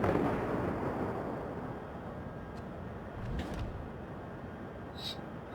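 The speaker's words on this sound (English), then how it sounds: "And I shoot my rear guns in hopes that they will do the job" Battleship rear guns firing in the naval game World of Warships, a muffled boom rolling under a dense rumbling battle ambience, followed by a few faint sharp clicks.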